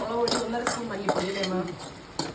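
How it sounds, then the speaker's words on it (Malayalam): Chili and coriander powder being stirred in hot oil in a frying pan, with spoon scrapes and clinks against the metal pan in a steady close rhythm over a faint sizzle. "ഒരു ചീനച്ചട്ടിയിൽ എണ്ണ ചൂടാക്കി ആവശ്യമായിട്ടുള്ള മുളക് പൊടിയും മല്ലിപ്പൊടിയും ഒന്ന് വഴറ്റി അതിന്റെ പച്ചമണം കളഞ്ഞെടുക്കാം"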